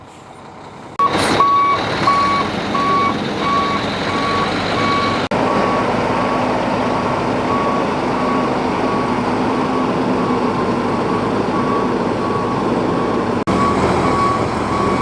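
An XCMG 50-ton dump truck reversing at a stone quarry, a loud engine rumble running steadily under a regular electronic reversing beep that repeats close by.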